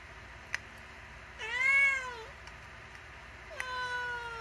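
A cat lets out two drawn-out meows nearby, the first rising then falling and the second flatter, separated by a pause with a couple of faint clicks and no speech.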